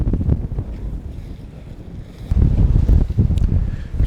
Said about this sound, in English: It's a terribly windy place.